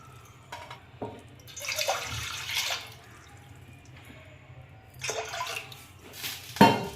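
Water poured into a pot on a lit stove for sabudana payasam, coming in a few separate bursts of splashing and trickling with quieter pauses between them and a louder final splash near the end.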